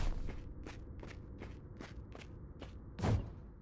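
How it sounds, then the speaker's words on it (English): Footsteps in a stylish hack and slash video game, eight or so evenly paced steps close by, with a heavier thud near the end and a low background rumble. "When you start a level, you won't hear anything besides your footsteps and other sounds."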